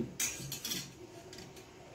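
A metal spoon clinks against a container a few times while coffee is added to melted soap base for homemade coffee soap, sharp close taps followed by faint scraping.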